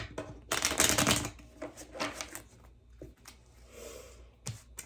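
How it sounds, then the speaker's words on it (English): A deck of tarot cards is shuffled close by in quick riffling bursts, with softer card slides and taps between them. "I'll give it one more shuffle."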